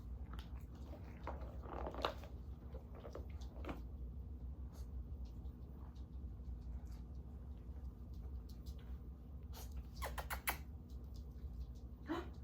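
A puppy chews, giving faint, irregular crunching and biting clicks over a steady low hum. The chewing is scattered across the whole stretch and is heard alone without talk.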